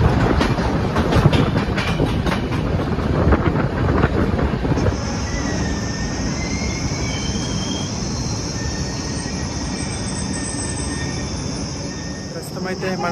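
Telangana Express passenger train rolling along the railway toward Balharshah, with loud rumbling wheels, rhythmic clatter and a faint high wheel squeal over steady track noise.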